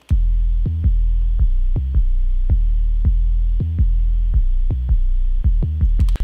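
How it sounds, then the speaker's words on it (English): An 808 bass playing alone with the kick and snare muted, booming low notes struck in a loose rhythmic pattern, each hit sustaining and decaying, loud, close and without voices. "Let's listen to our 808 by itself for 2 seconds."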